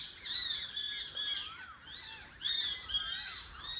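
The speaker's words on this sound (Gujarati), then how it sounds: "તો કેવા સરસ ચકલા ચીં ચીં બોલી રહ્યા" Several sparrows chirp and squawk in quick, overlapping bursts close by in a forest, the bright calls rising and falling with short pauses between flurries.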